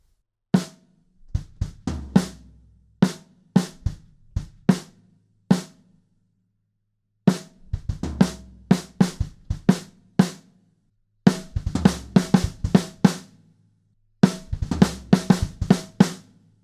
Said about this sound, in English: At the end of the bridge, the fill has changed a little bit and it sounds even tastier than it did before.